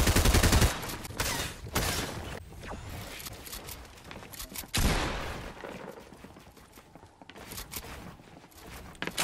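Rapid gunfire bursts in the Fortnite video game, a loud volley at the start followed by scattered shots and clattering movement sounds.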